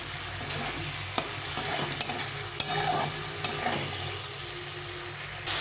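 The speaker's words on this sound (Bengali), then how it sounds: "আলুটাকে একটু কষিয়ে নেবো মশলার সঙ্গে" Potatoes stir-fried with spices and tomato in a pan for a katla fish curry with eggplant, a continuous sizzle broken by a few sharp spatula knocks against the pan, no voices.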